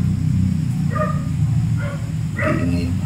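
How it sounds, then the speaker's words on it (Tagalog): Dogs bark in a few short, separate bursts at a moderate distance over a constant low rumble. "Iingay yung mga aso."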